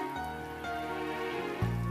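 Rain falls steadily in a TV drama scene, a soft continuous patter on surfaces, with low background tones and a louder rumble swelling at the very end.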